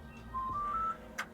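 A Tenon K7 smart lock on a door unlocks by fingerprint, giving a short rising three-note electronic chime followed by a soft click, close and clear against a quiet room.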